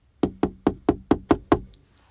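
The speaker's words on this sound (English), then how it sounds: "Knock on wood." Seven sharp knocks on wood in a quick, even rhythm, close and crisp, alone with no talk.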